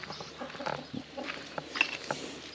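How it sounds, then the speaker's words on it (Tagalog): Chickens cluck and murmur in short scattered bursts nearby, a restless farmyard chatter with faint background noise. "Yung mga alaga kong manok, nag-antay na sila kung sinong magbubukas."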